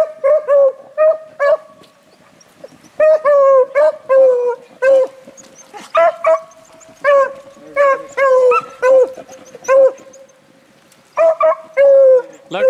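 Beagles at a field trial bark, yip and howl in a close, busy pack chorus, with rapid overlapping bursts and brief pauses between the calls, and no talk over them.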